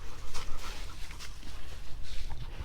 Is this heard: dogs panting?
yes